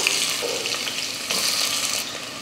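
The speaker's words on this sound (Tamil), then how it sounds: "இப்போ இதை வதக்கிடுறேன்." A large onion sautés in hot oil in a pan with cloves, cardamom, cinnamon and a bay leaf for a veg kurma, making a close, steady sizzle with light stirring.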